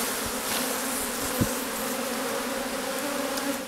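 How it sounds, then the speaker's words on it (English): A steady, dense buzzing of many honey bees being shaken into a nuc box, close and continuous, with a brief soft knock partway through. "so I'm going to shake these bees in."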